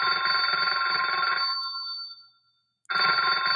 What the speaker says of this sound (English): Here, we have a Princess phone cue.